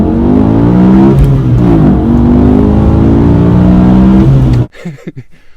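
BMW E60 M5 pulling hard under full throttle, its engine note rising steadily in loud, sustained sweeps through the revs before cutting off abruptly near the end.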